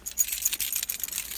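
A ring of keys jangles close up, a brief bright metallic rattle of several chunky keys shaken and clinking together, alone without talk.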